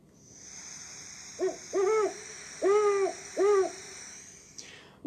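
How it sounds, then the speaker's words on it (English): Four deep, rounded hoots from a great horned owl in a short sequence, the middle ones longer, over a steady high-pitched hiss. "Now let's compare that to our great horned owl."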